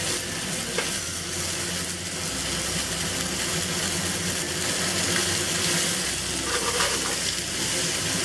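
Asparagus and oyster mushrooms stir-fried in a hot wok make a loud, steady, dense sizzle that continues throughout, with faint clanks as the food is tossed.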